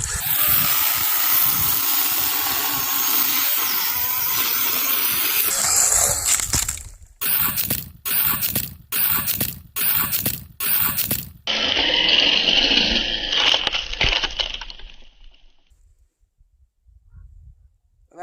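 A chainsaw felling a tree runs loud and steady at full throttle, then breaks into a series of short revving bursts with gaps between them, before a final stretch of cutting that dies away to near silence.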